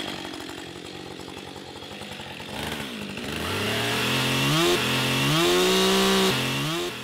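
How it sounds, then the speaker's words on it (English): A chainsaw sound effect laid over footage of a motorbike jumping off a ramp: a loud buzzing engine that revs up and rises in pitch in repeated surges, alone without talk. "took the sound effect of a chainsaw and played it on top of a shot of a motorbike jumping off a ramp"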